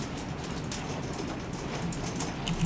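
Steady rain falling in a survival video game, an even, dense hiss of drops continuing without a break.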